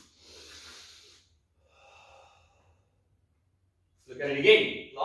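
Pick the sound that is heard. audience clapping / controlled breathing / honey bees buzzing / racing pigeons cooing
controlled breathing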